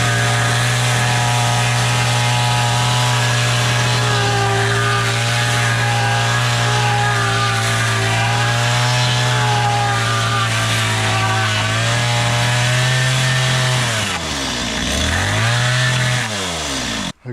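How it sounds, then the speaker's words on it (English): A chainsaw cutting wood runs at steady high revs for a long stretch, its engine droning loudly, then dips and rises in pitch near the end before cutting off. "I'm going to have to chainsaw it."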